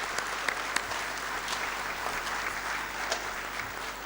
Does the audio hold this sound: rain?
no